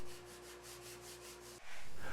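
Sandpaper of 100 grit rubs back and forth over a guitar body's finish in a steady rhythmic scrub, about eight close strokes over a low electrical hum, before stopping abruptly.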